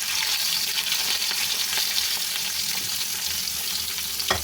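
Bitter gourd sizzles steadily in a little oil as it is stirred, a continuous close crackling hiss with occasional scrape and clink of the spoon, no voices.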